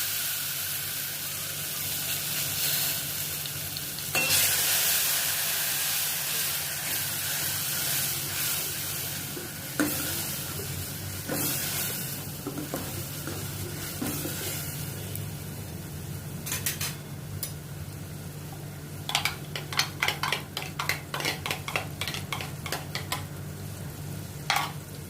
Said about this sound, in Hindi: इसमें मैं 1 टमाटर क्रश किया हुआ डालती हूँ